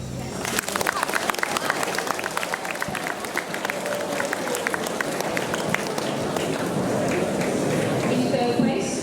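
A school assembly audience gives a sustained round of applause, many hands clapping in a dense, even roar that holds steady from start to finish, fairly close and loud.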